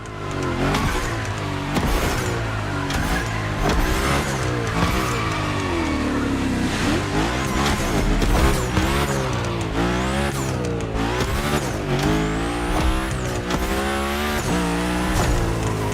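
Car sliding with tyre squeal in The Crew Motorfest, the engine revving and rising in pitch again and again as it drifts. It runs loud and continuous with no voices.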